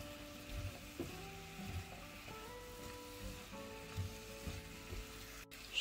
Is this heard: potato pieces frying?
yes